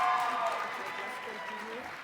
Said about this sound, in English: please applaud for the candidates who are willing to partake in this presidential debate